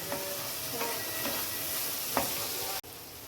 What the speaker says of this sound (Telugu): ఇదిగోండి బటరు, కొద్దిగా ఆయిల్ వేసి ఇందులో కొద్దిగా క్యాప్సికము, పచ్చిమిర్చి వేపామండి